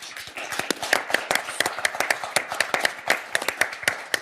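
A small studio audience on a French numbers-and-letters quiz show claps for a contestant, individual claps clearly separate in a brisk, irregular patter, close and fairly loud, with no speech over them.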